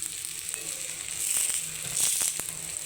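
Pearl millet adai, a thick savory pancake, cooks on a hot pan with a steady, close sizzle that swells briefly a couple of times after being flipped, with no talking.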